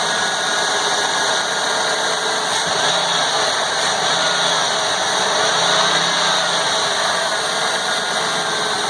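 A 2003 Ford F550 V10 idles steadily after engine repair, a loud, even, continuous mechanical hum with a high whine that holds throughout.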